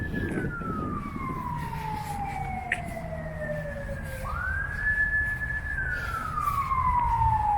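An emergency vehicle siren wails by a cemetery during a solar eclipse, its long rising and falling sweeps clear and fairly close over steady road traffic noise.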